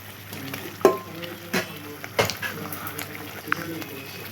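Fried paneer dropped into sizzling, oil-separated masala in a pan, a soft sizzle under scattered clinks and stirring knocks, with a voice speaking over it.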